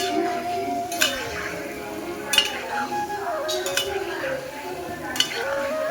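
Palm fruit fritters fry in a wok, with a soft continuous sizzle under periodic metallic clinks and scrapes of a utensil stirring against the pan; someone talks faintly in the background.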